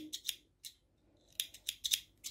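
Scissors snip crochet yarn in a series of crisp close cuts, two quick snips followed by a pause and then a brisk cluster of four or five more, with no talking.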